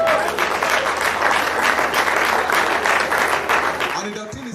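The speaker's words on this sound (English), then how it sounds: "give the guest lecturer another round of applause for that" Audience applause at an engineering society graduate membership induction ceremony in Nigeria, a steady burst of clapping that fades near the end, with brief voices audible as it dies down.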